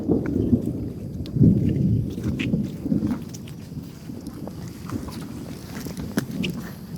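Thunder rumbles low and continuously through a rain shower, with gusty wind buffeting the microphone outdoors and no clear voices.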